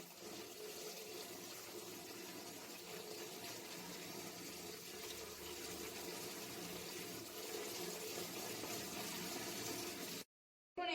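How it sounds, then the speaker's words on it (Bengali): Biuli dal lentils are rubbed and rinsed under a running tap in a steady, soft wash of flowing water that continues throughout, then stops abruptly near the end. "আর একবার আমি ভালো করে ধুয়ে নিচ্ছি। ঠিক এইভাবে ঘষে ঘষে আমি ধুয়ে নেব।"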